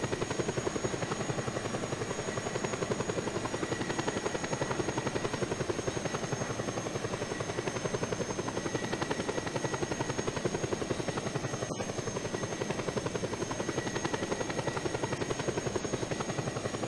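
Helicopter in the Just Cause 2 video game, a loud continuous rotor chop and engine whine that stays steady and close throughout.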